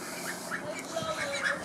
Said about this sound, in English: We have ducks and chickens in the shed.